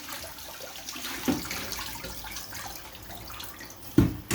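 Basil washed under a running kitchen tap, a steady close splash and trickle of water with a couple of brief knocks from handling the leaves, no voices.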